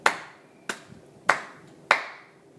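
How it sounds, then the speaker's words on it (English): Sparse, slow claps, about four evenly spaced and fairly faint, ringing in a quiet room. "let's give Kevin Calloway a round of applause"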